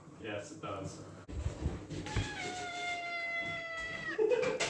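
A cat caterwauls in a long, wavering, drawn-out yowl close by, with short meows before it, while people talk over and around the cry.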